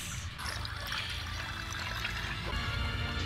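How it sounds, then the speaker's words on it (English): Soft trickling and dripping of water from a scene in The Dark Crystal: Age of Resistance, a quiet liquid patter running continuously without speech. "Drip drop."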